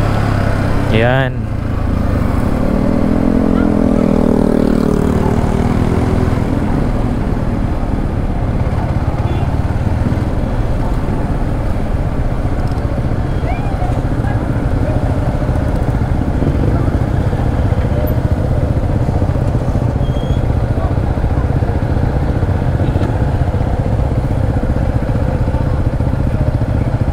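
A Yamaha MT15 motorcycle engine runs steadily nearby, a constant rough mechanical drone with a brief rising rev near the start, heard alone for most of the stretch.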